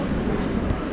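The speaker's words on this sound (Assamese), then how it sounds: "ইয়াতে বঙাইগাঁও ষ্টেচনত অলপ ৰখিছে ট্ৰেইনটো" A train stands briefly at Bongaigaon station on the Rajya Rani Express, its steady low rumble filling the moment loudly and evenly, with no voices.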